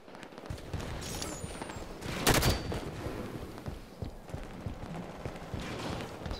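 Steady automatic assault rifle fire in the Halo 5 online shooter, dense rapid bursts rolling on continuously with one louder blast midway, mixed with game effects and no talk.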